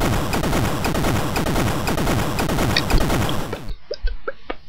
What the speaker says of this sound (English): And thanks to the shotgun, it goes down easily.